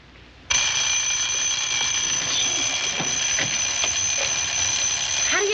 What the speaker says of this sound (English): Why does anyone who doesn't sleep well have an alarm that sounds like Big Ben that can't be turned off?